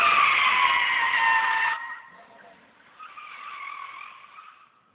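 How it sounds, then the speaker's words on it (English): A car doing a burnout gives a loud, steady high-pitched tire squeal that cuts off sharply, followed by a fainter, wavering squeal as the tires spin on. "This is Cody about to do a burnout."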